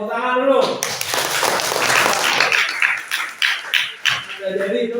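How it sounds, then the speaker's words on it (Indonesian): A classroom group claps at a geography teaching practice session, a dense burst of applause that tapers into scattered claps, with a voice speaking at the start and end. "Ya, tepuk tangan dulu."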